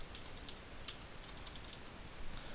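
Computer keyboard typing during a Wizard101 game session, a quiet, steady patter of light key clicks with a few sharper taps, close and faint, no voices.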